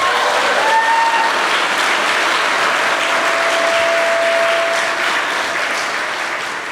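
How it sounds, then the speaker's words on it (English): Sustained, dense audience applause fills a hall at an evening annual meeting, loud and steady throughout with no speech, tapering slightly at the end. "Let's give another round of applause to Temple Guard."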